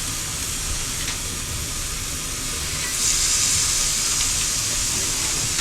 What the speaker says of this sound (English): That is very sizzly.